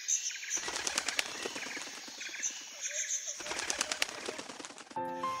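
Rapid bursts of bird wing flapping, a flurry of sharp flutters repeating in several clusters with brief pauses, ending on a short chime-like tone.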